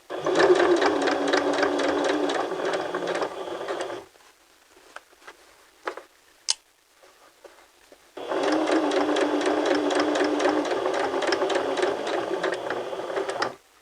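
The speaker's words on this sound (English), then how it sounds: "And then we're going to stitch forward." A sewing machine stitching forward on fabric along a pocket edge, running loud and steady in two long bursts separated by a few seconds of near silence with small clicks and a sharp tap.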